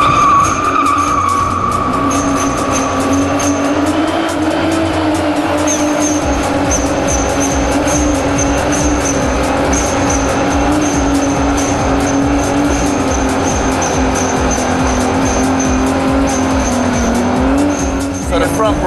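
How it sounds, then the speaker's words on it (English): A car engine drones loudly and steadily while the rear tires squeal continuously from wheelspin, with voices talking underneath. "the back wheels are spinning proper mad"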